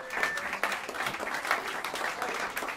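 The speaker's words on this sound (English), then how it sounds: "Have a round of applause for him" Applause at Smalls Jazz Club for the drummer of a live quartet, moderate steady clapping from a small crowd, with a voice faintly heard over it.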